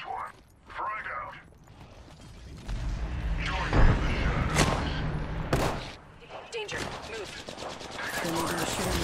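Apex Legends gameplay with bursts of gunfire and rattling automatic weapons mixed with mechanical clicks, loud and up close, while game voice lines call out over the shooting.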